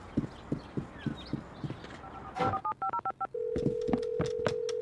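A telephone is dialed: a short run of keypad tones follows horse hoofbeats, then a steady ringing tone holds to the end.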